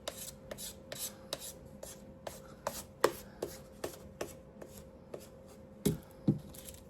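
A sander works the edges of a gingerbread craft piece in short, uneven scraping strokes, close and fairly soft, with a couple of duller knocks mixed in and no voices.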